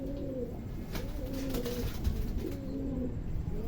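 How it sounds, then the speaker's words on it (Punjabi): Pigeons coo repeatedly in soft, rolling calls close by, kept as birds being raised for their young, with steady background hiss and no talking. "ਕਬੂਤਰ ਦੇਖ ਰਹੇ ਹੋ ਮਾਸ਼ਾਅੱਲਾ"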